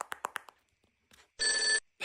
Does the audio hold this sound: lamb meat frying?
no